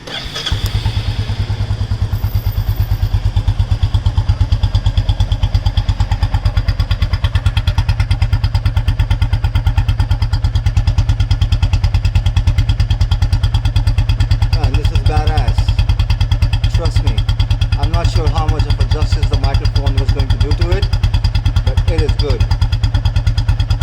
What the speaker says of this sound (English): I'm going to take the microphone towards the silencer just to give you an idea about how bassy it is